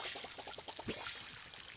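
Crops being watered in the farming video game Palia: a faint, steady splash of pouring water with a light trickling texture that runs throughout.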